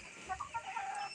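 Chickens cluck in short, sporadic notes on a hot farm, a few quick calls at moderate distance over a faint background hiss.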